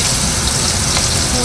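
Onion hits hot oil in a wok with cumin and whole garam masala, bursting into a loud, rushing, close-up sizzle that stays intense through the brief moment.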